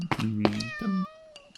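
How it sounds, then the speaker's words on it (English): A cat meows near a garage workshop, two or three close, tonal meows in quick succession, followed by a short quiet tail. "Is that you next door's cat?"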